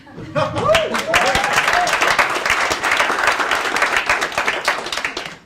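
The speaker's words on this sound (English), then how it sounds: "I think I deserve a bit more applause." A comedy club crowd at Gotham Comedy Club breaks into loud, continuous clapping that holds for about five seconds, with a brief whoop and scattered voices rising through the applause.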